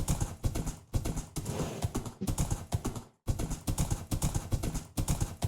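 Horse hooves clip-clopping in Minecraft, a steady run of close, loud hoof clops in clustered beats with one brief pause, alone without talk.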